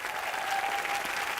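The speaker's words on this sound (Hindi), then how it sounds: "एक बार बाबा के लिए जोरदार तालियां।" Applause for Baba (Dharmendra) from a studio audience on an entertainment show, a dense, even wash of clapping that holds steady through the short moment with a faint voice beneath.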